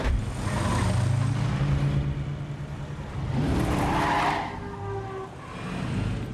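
A giant 1920s Duesenberg car driving, its engine and road noise loud and close in two long swelling passes with a brief dip between them.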